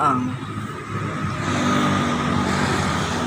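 Buses and traffic rolling along a busy city street, Jalan Haji Juanda in Tasikmalaya, Indonesia: a continuous mid-distance rumble of engines passing, with no clear break or single standout vehicle.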